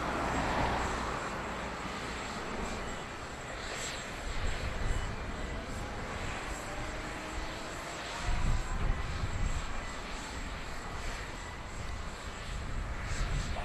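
An aircraft takes off from runway 28 right at Dublin Airport, with a loud, sustained engine roar that rumbles and swells across the whole stretch, heard from a distance outdoors.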